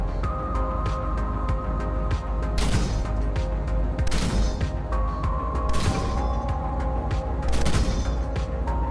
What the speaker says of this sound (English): they have modeled the BMP-2 with its 30mm 2A42 autocannon, including night sights, which look and sound pretty good